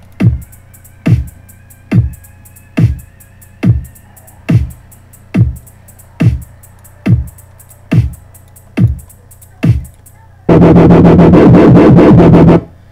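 A slow, steady electronic dubstep drum pattern with punchy hits and crisp hi-hat ticks on top, ending in a loud, dense burst of sound.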